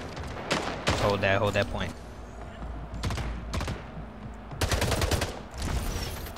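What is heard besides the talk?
gunfire in the Splitgate video game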